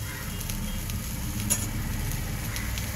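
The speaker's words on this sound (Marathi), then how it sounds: "आता आपण हे खोबरे त्यावर भाजून घेऊया." Onion and grated coconut roasting together in a pan give a steady, soft, close sizzle with a gentle hiss throughout, broken by one brief scrape or stir midway.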